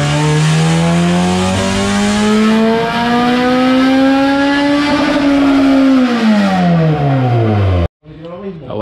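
Honda B20 VTEC engine, a 220-horsepower naturally aspirated build with adjustable cam gears, revving on a dyno during a tuning pull; loud, steady rising wail climbing for about six seconds, then falling away and cutting off abruptly near the end.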